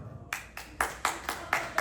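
A few people at a dispensary comedy night clap in a sparse, steady rhythm of distinct claps, fairly close and with no talking.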